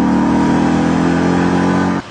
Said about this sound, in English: We just love this engine. It sounds just like Frank Bullitt's car in the movie.